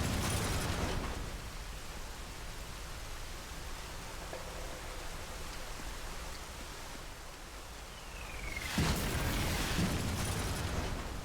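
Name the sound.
mortar explosions in a video game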